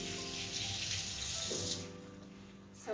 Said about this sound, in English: let me wash this fork off